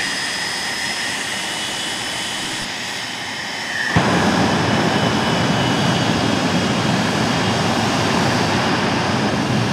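Loud, steady roar of a jet-powered truck at Rockford Speedway, close and continuous, surging sharply louder partway through and staying at full blast.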